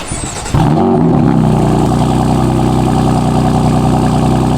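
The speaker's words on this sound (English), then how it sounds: "let's get you guys a cold start" A BMW M4 F82 with catless downpipes and a tune cold starts, cranking and firing up abruptly, flaring to a loud rev before settling into a steady, loud, rumbling high idle.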